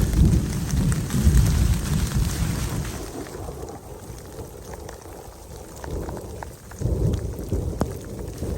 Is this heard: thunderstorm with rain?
yes